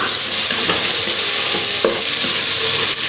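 Food sautéing in the Teflon-coated nonstick inner pot of a Geek Robo Cook, a loud, steady close sizzle with occasional light stirring clicks and no voices.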